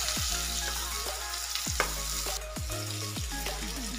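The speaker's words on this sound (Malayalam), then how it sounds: "ഇതെല്ലാം ഇട്ട് കൊടുത്ത് നന്നായിട്ടൊന്ന് വഴറ്റിയെടുക്കട്ടെ. നന്നായിട്ട് വഴറ്റണം കേട്ടോ." Onions, ginger and spices fry in oil in a pan while a spoon knocks against the metal every second or so, a continuous close sizzle with no voices.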